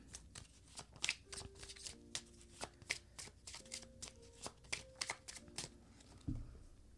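New oracle card deck being shuffled by hand, repeated crisp riffling and slapping card sounds in irregular bursts, close and fairly quiet, with a few soft tones in the background.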